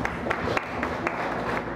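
A church congregation claps in praise, a dense patter of many hands with a few sharper claps standing out, fairly close and sustained briefly.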